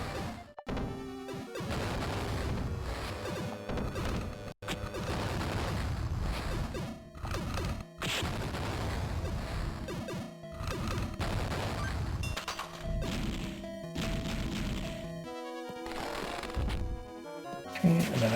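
Hyper bombs blasting a long row of turrets in Beyond Oasis, a dense barrage of crashing explosions and rapid impact hits that keeps up loudly almost the whole way through.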